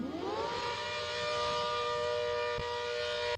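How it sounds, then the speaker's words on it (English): Hurricane warning siren used as a tempo-shifted sound effect, a loud sustained wail that rises in pitch at the start and then holds steady and continuous for several seconds with no talk. "What I ultimately ended up with was a hurricane siren"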